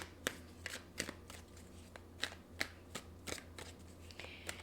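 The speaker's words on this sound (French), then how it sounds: "Je vais sortir les cartes doubles de ce jeu. Je vais les mêler" A deck of tarot cards is shuffled up close, loud crisp riffles and slaps coming in an irregular rhythm, with no voices.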